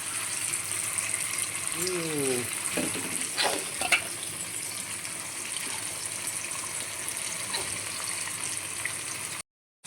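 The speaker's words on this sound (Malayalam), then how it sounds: "അപ്പം ഞാൻ പിള്ളേർക്ക് നങ്ക് വറുത്ത് കൊടുക്കാമെന്ന് വിചാരിച്ചു" Small nangu fish frying in hot oil in a home kitchen gives a steady soft sizzle, joined by a few sharp clinks and stirring scrapes near the start, with faint background sounds.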